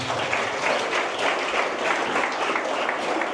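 Sustained applause from a congregation at a French-language Christian worship broadcast, a dense wash of clapping that holds steady and loud for the whole stretch.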